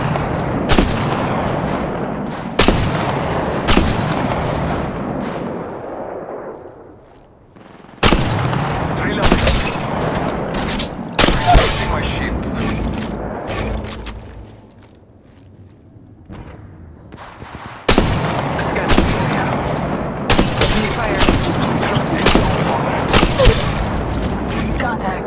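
Gunfire in Apex Legends Mobile on Kings Canyon: loud repeated bursts and booming shots in several clusters separated by quieter gaps, with occasional talk.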